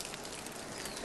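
Steady rain and falling water hiss broadly and evenly on the way to Torreccacca, with no voices over the soft, constant wash.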